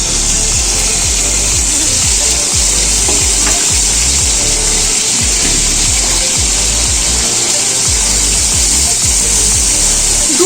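Chicken paturi fries in a covered pan, a loud, steady sizzle and crackle running without a break from start to finish, with no voices over it.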